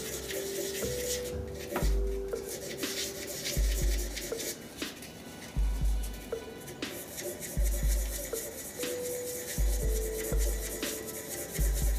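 Sandpaper rubbing over an epoxy resin shaving brush handle, steady rasping strokes repeated in a regular back-and-forth rhythm, close and alone.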